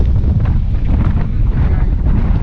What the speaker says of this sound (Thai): พายุปลาบึกลมแรงจริงๆ